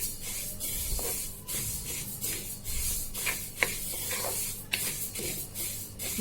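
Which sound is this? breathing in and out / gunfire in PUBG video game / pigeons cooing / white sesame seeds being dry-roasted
white sesame seeds being dry-roasted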